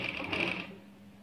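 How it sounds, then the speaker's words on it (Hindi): A sewing machine stitches along the neckline of a kurti, a steady mechanical whir running for about a second before fading slightly, with no talk over it. "मैं इसकी स्टिचिंग करूंगी।"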